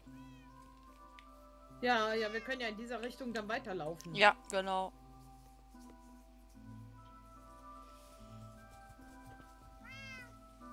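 A cat in a video game meows several times in a quick, wavering burst, loud and close, with one faint meow later on, while people talk calmly in German over quiet background game sounds.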